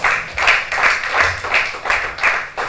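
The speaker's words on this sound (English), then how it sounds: "A lot of applause for him," An audience at a World Cancer Day commemoration event in Nigeria gives rhythmic applause, a loud, close, steady pulse of claps with no talking over it.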